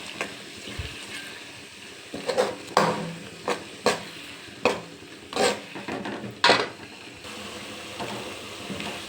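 Mint and green chili paste frying in oil in a pan, stirred with a spoon: a soft continuous sizzle broken by a series of scraping, clinking strokes against the pan, close and with no talk.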